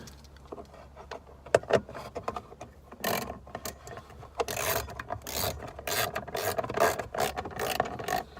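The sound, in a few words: ratchet wrench with extender tightening a bolt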